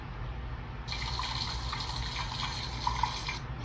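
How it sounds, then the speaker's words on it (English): A soft, steady hiss of recorded rain from a sleep app begins after a moment of quiet background, continuing evenly with a few light drips, played back nearby through a Feit Electric LED bulb speaker. "Let's do rain."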